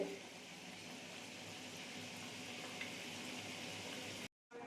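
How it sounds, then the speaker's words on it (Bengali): Mugsamli pitha, a rice-flour sweet, frying in oil gives off a faint, steady bubbling sizzle that runs continuously before a sudden cut. "এই ভাজা হচ্ছে, ভাজা পিঠে হচ্ছে।"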